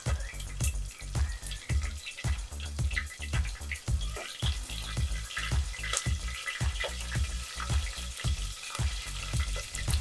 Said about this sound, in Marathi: तेल थोडं गरम झाल्यानंतर परतून झाल्यानंतर यामध्ये आपण हिरव्या मिरच्या टाकणार आहोत ज्या उभ्या आपण कापून घेतल्या होत्या